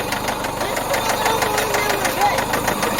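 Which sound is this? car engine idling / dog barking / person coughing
car engine idling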